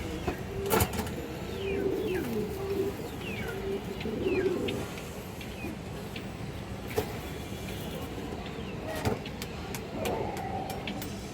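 Pigeons coo softly in repeated low phrases on a farm keeping silver and bezi breeds, with other birds chirping over steady background noise and a few sharp knocks.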